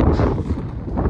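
Wind gusts buffet the microphone in a brief, low rumbling roar that rises and falls, on a cold hilltop.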